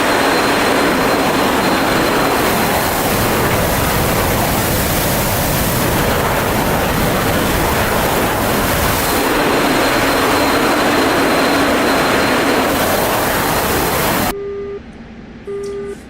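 A MiG-29 jet engine in a flight simulator game roars as a loud, steady broadband rush for about fourteen seconds, then cuts to near silence with faint tones at the end.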